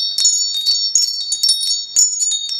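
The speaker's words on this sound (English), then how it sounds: "We're just going to listen to this little wind chimes for you." Small mesh butterfly wind chimes ring close and clear, bright metallic tones struck repeatedly in uneven clusters that overlap and sustain, with no voices.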